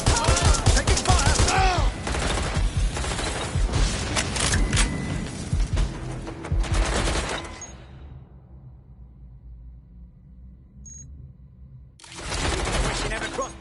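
Gunfire in Watch Dogs: Legion: dense, loud volleys and shots for several seconds that drop to near quiet, then return in a short burst, with voices heard amid the shooting.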